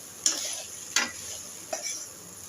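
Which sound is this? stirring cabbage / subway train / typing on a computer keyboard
stirring cabbage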